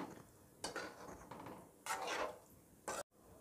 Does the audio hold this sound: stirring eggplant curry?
yes